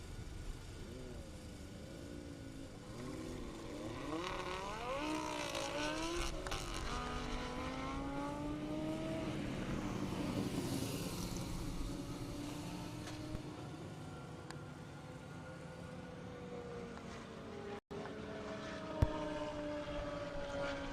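An Audi R8 and a McLaren launch side by side at a half-mile airport drag race in Indiana, a loud sustained engine roar rising and sweeping in pitch as the cars pull away, steady crowd-level noise throughout.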